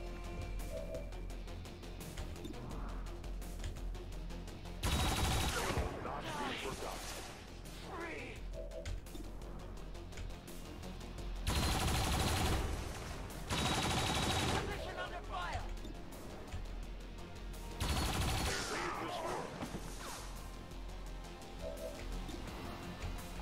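Turret gunfire in the strategy game XCOM 2, heard as three or four loud broadband bursts spread across the scene over a steady game ambience, with faint voices underneath.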